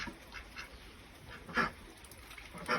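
Ducks quack softly and intermittently, a few short calls spread over quiet background noise.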